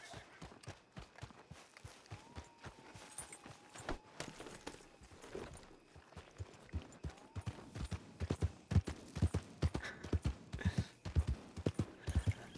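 Horse hooves clip-clop in a roleplay video game set around St. Denis, a brisk run of soft repeated hoofbeats that grows louder and denser toward the end, with faint ambient noise beneath.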